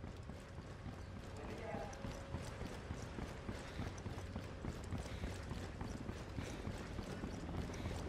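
Horses gallop in the video game Ghost Recon Wildlands, a steady run of hoof clip-clops kept up across the whole stretch, mixed with game ambience and a voice talking over it.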